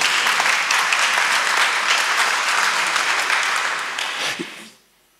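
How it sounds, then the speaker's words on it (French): A church congregation applauds a pastor with a dense, steady wash of clapping that holds for several seconds and then fades quickly to silence. "Vous pouvez l'applaudir, vous pouvez lui remercier"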